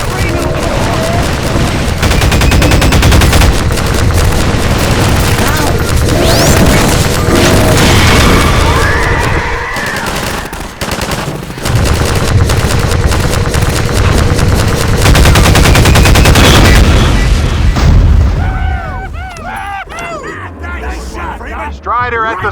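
Dense, loud gunfire and explosions in the video game Half-Life 2 Episode Two, with rapid automatic bursts and booms filling the scene while game voices shout over the chaos.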